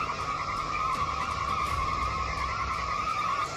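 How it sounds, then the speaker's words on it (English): Tires skid and squeal steadily as a tractor drags a connected pickup truck across a road, a continuous high-pitched squeal over a low engine rumble. "the tractor proves to be far more powerful, dragging the pickup truck across the road with ease"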